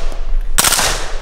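Gunfire in a video game: a single sharp, loud burst of shots erupts partway through, ringing out briefly over a low background hum with no talk.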